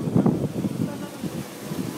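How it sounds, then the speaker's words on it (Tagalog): Strong wind gusts buffet the microphone at a mountain mini golf course, a steady low roar rising and falling across the whole stretch, with voices talking over it. "It's so windy."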